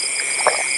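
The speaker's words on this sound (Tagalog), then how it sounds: "mukhang maglabasan pa yung mga palaka mga silo" A single short frog croak sounds at mid-distance over a dense, steady chorus of high-pitched night insects.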